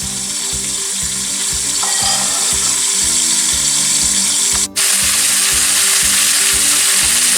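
Chicken sautés in its own juices in a pan over low heat: a loud, continuous hiss over a low rhythmic pulsing, with one brief dropout partway through and no speech.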